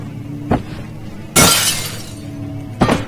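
Glass shatters in the dark castle of Amnesia: The Dark Descent, a sharp crash with a bright spray of fragments that rings out and fades, framed by two smaller knocks before and after.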